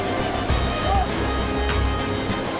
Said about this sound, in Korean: 인공적으로 만들어낸 파도와 강풍이지만 이거 영 만만치가 않은데요.